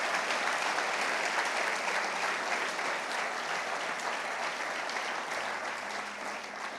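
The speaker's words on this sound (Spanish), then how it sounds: "si quieres aplaudir al Señor, lo haces" A church congregation applauds in worship, a steady, even wash of many hands clapping at moderate volume that continues throughout without pause.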